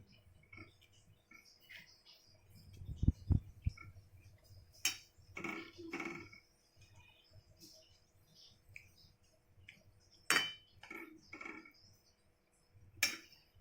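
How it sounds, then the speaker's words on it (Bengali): Vegetables stirred into Maggi noodles in a pan produce faint, scattered scrapes and clicks of a utensil against the pan, short bursts separated by quiet gaps, close and soft. "এবার সবজিগুলো দেওয়ার পরে একটু নাড়িয়ে নিতে হবে।"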